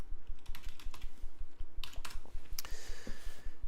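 Quick, steady keystrokes on a computer keyboard tap close by in a fast, even rhythm, with a few sharper clicks, and no voices.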